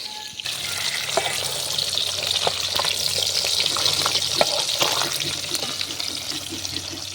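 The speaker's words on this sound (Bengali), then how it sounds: "এখানে মাছ ভাজা হচ্ছে" Fish frying in oil in a pan over an open dung-cake fire outdoors, a steady loud crackling sizzle that runs throughout with occasional sharper pops and light stirring, no voices.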